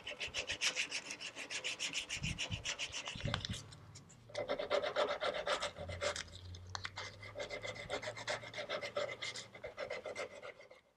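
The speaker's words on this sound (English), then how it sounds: "I'm just going to start sanding around, following the shape that I made at the 150" Wooden furniture legs are sanded by hand with 220-grit sandpaper. Soft, rhythmic back-and-forth rubbing strokes sound close but quiet, with a brief pause partway through.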